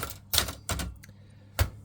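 A small Brother 210 slimline portable typewriter from 1980, fitted with a new ribbon, struck in a few separate keystrokes: crisp mechanical clacks, close and alone, spaced unevenly with short pauses.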